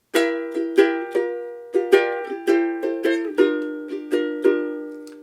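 A ukulele strummed gently and evenly with the index finger, bright chords ringing out in a relaxed rhythm with no voices.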